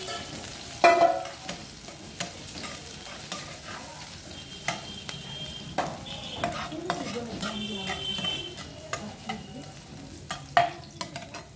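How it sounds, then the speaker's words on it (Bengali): Chopped ginger and green chili fry in hot oil while a spatula stirs them, giving a steady close sizzle broken by frequent scraping clinks against the pan, with no talking. "তো তেলটা গরম হয়ে গেছে, প্রথমে আমরা দিয়ে দেবো আদা কুচি ও কাঁচা লঙ্কা কুচি, দিয়ে একটু করে নেড়ে নেব।"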